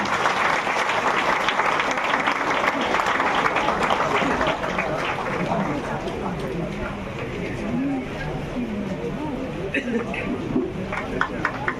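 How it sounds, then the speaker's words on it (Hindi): A crowd at a birthday event claps loudly and steadily, and the applause continues with a murmur of voices underneath. "तालियां होनी चाहिए।"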